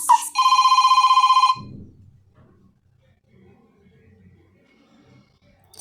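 Samsung Galaxy S ringtone Digital Phone, a loud electronic trilling ring that buzzes rapidly for about a second and a half, then stops, leaving faint low background noise.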